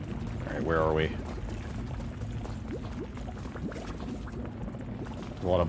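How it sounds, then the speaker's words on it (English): Liquid bubbles and gurgles steadily in a dim interior of the video game Like a Moth to Flame, a continuous wet churning ambience with brief tonal voice-like sounds near the start and end. "A lot of bubbling and gurgling going on in here."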